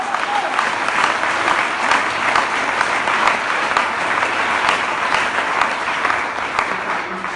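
A church congregation applauds and cheers, dense sustained clapping from many hands that stays loud and even throughout, with a faint crowd murmur underneath.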